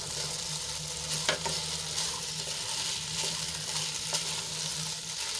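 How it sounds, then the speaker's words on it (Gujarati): Spiced chickpeas for chana chaat sauté in a pan, giving a soft continuous sizzle under occasional spoon scrapes and taps. The sound is close and fairly quiet, with no voices. "તો આને આપણે બે ત્રણ મિનિટ આ રીતે સાંતળી લઈશું"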